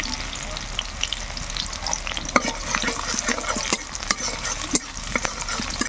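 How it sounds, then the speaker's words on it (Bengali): Chopped ginger, garlic and green chilli sizzling and crackling in hot oil in a pan, with scattered stirring clicks and scrapes, steady and close throughout. "এবার এই তেলের মধ্যে আমি দেব আদা রসুন কুচি"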